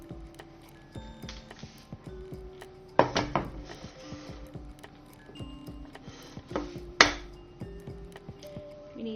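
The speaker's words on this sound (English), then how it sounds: "In the meantime though, we can separate some eggs." Eggs are cracked and separated into a bowl while making a couscous cake: two sharp cracking knocks against the rim, surrounded by light clinks and taps of shell and dishware, with no talking.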